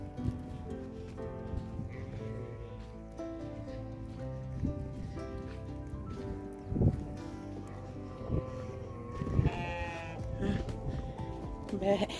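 Goats on a farm in the UAE bleating amid a busy mix of livestock calls, several overlapping voices near and far, with people talking in the background.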